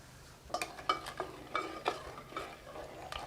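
Soft, close scraping and clinking of a spoon stirring sugar into rice milk payasam in a pot, several gentle strokes in an irregular rhythm.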